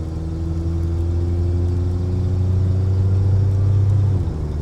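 A 1990s Ford Ranger engine with a slight exhaust leak runs at a steady, loud rumble. A low drone holds through a rev, and the pitch drops near the end as it shifts gear. Nobody speaks.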